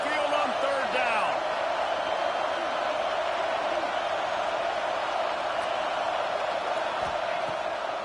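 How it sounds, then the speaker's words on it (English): Loud, steady roar of a college football stadium crowd on third down in a video game, Alabama fans at home against Georgia, sustained throughout with a few faint whistles and shouts rising out of the wash of noise. "The Tide crowd rolling noise down onto Saban Field on 3rd down."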